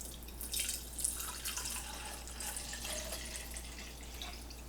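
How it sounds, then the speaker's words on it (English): Water runs into a bottle to fill it two-thirds full, a soft continuous trickling and splashing at close range, fairly quiet with a low background hum. "It says fill the bottle 2/3 full with water."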